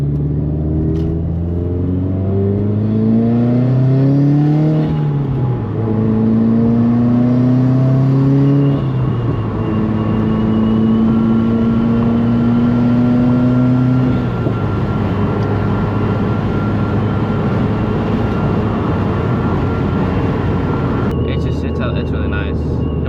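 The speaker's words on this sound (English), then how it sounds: "Turbo's so loud, bro. It's so sick." A turbocharged 2016 Subaru WRX with an aftermarket downpipe drives along, engine droning and rising in pitch through several gears, a loud steady cabin rumble with turbo whine.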